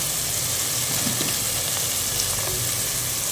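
Drumstick gravy with tomato frying in a pan gives a steady, dense sizzle with faint bubbling, close and continuous, with no voices over it.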